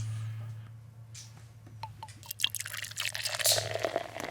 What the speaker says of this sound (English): So I'm going to crack it open and pour some. listen to the crack.